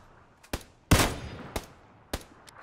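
Scattered gunshots in PlayerUnknown's Battlegrounds, four or five sharp reports at irregular intervals, one louder and closer than the rest, over a quiet background.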